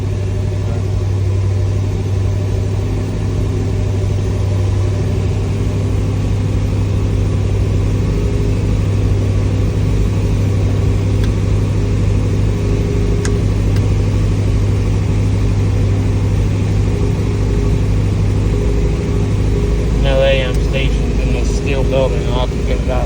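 A restored 1963 Corvette with a fuel-injected engine warms up right after starting, a steady low idle rumble held at fast idle throughout, with a brief flurry of higher clatter near the end and a voice speaking over it.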